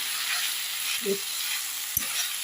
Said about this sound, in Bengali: এবার একদম ভাজা ভাজা করে নেবো